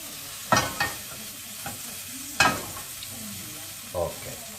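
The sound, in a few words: ingredient melting and sizzling in a pan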